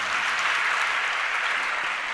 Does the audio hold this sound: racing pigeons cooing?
no